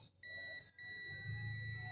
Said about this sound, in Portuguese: se eu colocar na escala de bip, esse aqui não vai bipar, provavelmente.